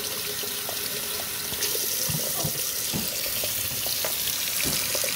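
Cold tap water runs steadily over a scored glass bottle in a sink, a continuous close splashing hiss with small irregular spatters and drips throughout, no voices.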